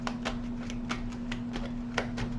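Tarot cards are shuffled by hand, a series of quick riffling snaps over a steady low electrical hum.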